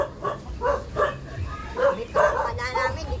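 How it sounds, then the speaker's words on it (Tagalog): Dog barking in short repeated bow-wow bursts, with whimpering yips, close by at a home, with people talking over and between the barks. "May aso."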